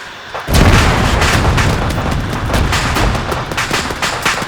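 A frag grenade goes off in ArmA 3 combat: a loud boom rolls into sustained crackling gunfire and further blasts, dense and close, with no one talking.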